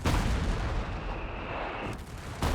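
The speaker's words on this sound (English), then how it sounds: "So let's see how this goes on the barrage at Vet 2. And it's pretty fast barrage." Rapid artillery barrage in the video game Company of Heroes 3, dense overlapping booming shell fire rolling continuously at high level with a brief dip near the end.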